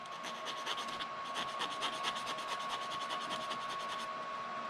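A sanding block rubs steadily back and forth over a small plastic model kit part, a close, even rasp in quick repeated strokes, with a faint steady tone underneath.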